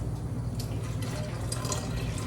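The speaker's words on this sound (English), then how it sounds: "I'm going to pour the coconut in the black beans." Blended coconut milk is poured into a pot of black beans for Haitian sos pwa nwa, giving a steady close splashing and gurgling stream of liquid with faint drips and no voices.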